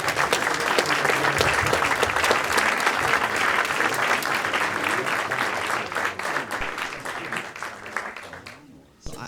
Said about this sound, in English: Can we all give a round of applause once again?